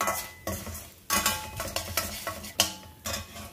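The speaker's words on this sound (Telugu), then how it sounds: "మన మినపప్పు వేగిపోయింది." Urad dal frying in a pan and stirred with a metal spoon, crisp sizzling with sharp scraping strokes against the pan at an uneven rhythm, close and loud.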